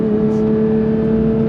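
A 992-generation Porsche 911 GT3 Touring with a manual gearbox pulls on throttle, its engine a loud, steady, tonal drone heard briefly and up close without speech.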